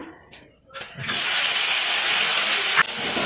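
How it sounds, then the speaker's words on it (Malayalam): Tomatoes hit hot oil in a pan with a sudden loud, sustained sizzle that starts after a second of light clatter and stays steady, with a brief knock near the end. "അടുത്ത നമുക്ക് തക്കാളി ഇടാം"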